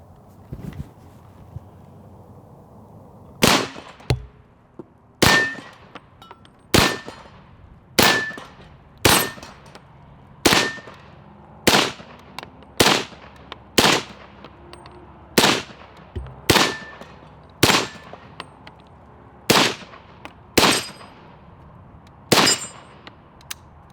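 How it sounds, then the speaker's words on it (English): A World War II M1 carbine fires about fifteen loud, sharp single shots at a steady pace of roughly one every one to two seconds, each followed by a short echoing decay, with no voices between them. "now we're going to shoot the real thing just for comparison. This is a World War II M1 carbine here."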